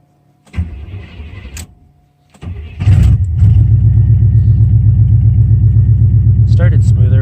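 A cold truck engine fitted with new spark plugs and a new battery cranks in short bursts, then catches and settles into a loud, steady idle rumble, with a person speaking briefly before it starts.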